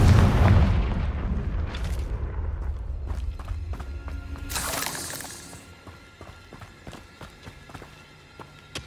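A Confringo spell blasts in Hogwarts Legacy, opening with a heavy booming explosion that decays into shattering debris, crackles and scattered clatter, loud at first and fading over several seconds.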